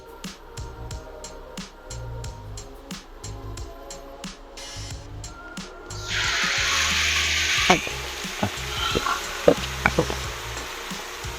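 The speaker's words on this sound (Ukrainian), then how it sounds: "І тепер смажимо це все до майже готовності" Minced meat sizzles in an oiled pan, picking up partway through, a steady hiss with scattered clinks and scrapes, preceded by quieter kitchen clatter.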